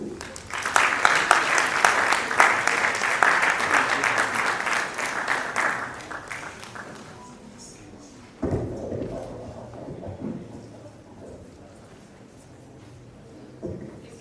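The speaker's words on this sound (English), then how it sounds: "Another big round of applause for Mr. OLADAYO." Audience at an economics and management sciences faculty symposium applauding to welcome a speaker, a dense burst of clapping that fades over several seconds, followed by scattered thumps and faint talk.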